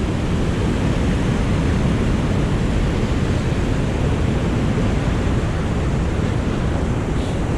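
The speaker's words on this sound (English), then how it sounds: "The Deschutes River." Rushing water of the Deschutes River near Tumwater Falls, a loud, steady broadband roar with no breaks or distinct splashes, close to the microphone and with no voices.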